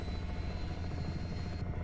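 A Black Hawk (H-60) helicopter in Microsoft Flight Simulator over Papua New Guinea gives a steady, loud rotor-and-turbine drone with a dense chopping texture that runs without a break, close and alone.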